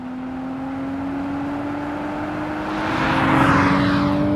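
Inside the cabin of a sports car, the engine gives a high, steady whine that climbs in pitch and grows louder as it revs toward the top end, with no talking.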